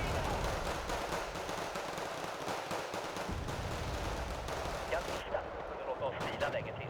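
Mortar fire and artillery in Wargame: Red Dragon, a ranked one-on-one match: a continuous low rumble of distant blasts and gunfire runs steadily under a voice talking.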